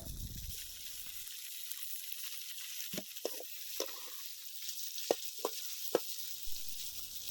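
Onions and tomatoes sauté in a pan for a spicy Chettinad chicken gravy, a steady close sizzle with a few sharp scrapes and taps of stirring scattered through, no voices.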